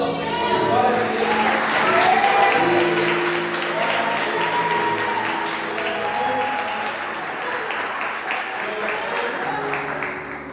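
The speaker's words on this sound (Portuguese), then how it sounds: "aplauda o Senhor, glória a Deus" A church congregation applauds in a sustained wash of clapping. A loud voice and singing carry over the top and fade somewhat toward the end.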